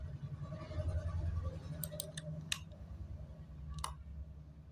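Keyboard and mouse clicks while modeling a 3D PlayStation controller in Blender: a few sharp, quiet clicks scattered irregularly over a low steady hum, with no talking.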